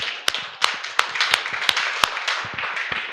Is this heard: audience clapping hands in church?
yes